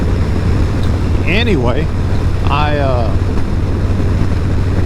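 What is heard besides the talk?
riding a modded Harley-Davidson Low Rider S motorcycle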